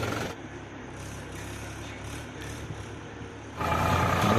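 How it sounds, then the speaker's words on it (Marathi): A Sonalika 745 tractor engine runs near a river, a steady low diesel drone that surges louder toward the end. "हा माझा ट्रॅक्टर"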